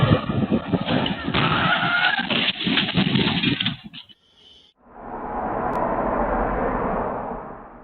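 A truck loses control on a street and heads into a roadside stall. A loud, rough rush of vehicle noise with a skidding edge breaks off into a short near-silence, followed by a broad, steady roar.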